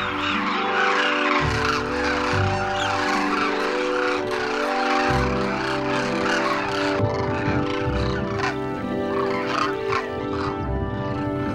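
A large flock of birds calls loudly as it leaves a feeding enclosure for the village pond in Rajasthan, India, a dense, continuous chorus of overlapping honking cries with no gaps.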